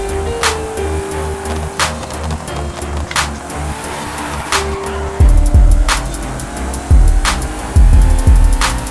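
A car in Forza Horizon 5 losing traction, its engine droning through rising gear notes with repeated squealing bursts of tyre noise, and heavy thumps and rumble in the last few seconds, no voices.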